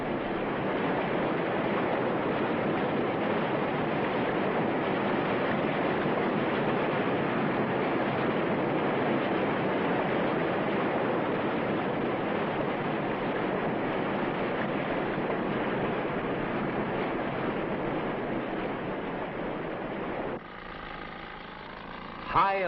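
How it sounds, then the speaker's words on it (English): Raging Colorado River at Glen Canyon, swollen by spring snowmelt, roaring through newly cut diversion tunnels: a loud, unbroken rushing wash of water that holds steady throughout, then briefly dips and shifts near the end. "the new tunnels felt the full fury of the raging river"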